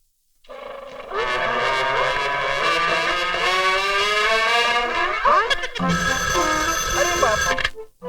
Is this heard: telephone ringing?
yes